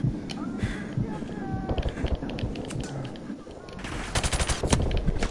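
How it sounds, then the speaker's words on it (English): Rapid gunfire rattles through a Call of Duty 4 Remastered battlefield, with repeated automatic bursts and single sharp shots near and far, plus faint keyboard clicks underneath. "Are they shooting from behind?"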